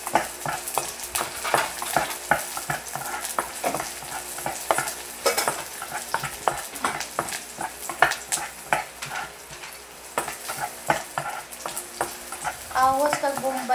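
Adobong takway sautéing in a pan, with frequent scraping stirs and clinks over a soft, continuous sizzle of frying, recorded up close, with no one speaking.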